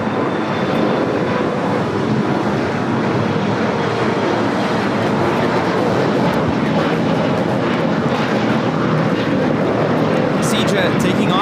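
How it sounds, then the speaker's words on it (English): A jet airliner takes off at LAX with a sustained, loud broadband engine roar that stays steady throughout, with voices faintly under it. "Seajet taking off to Monterrey"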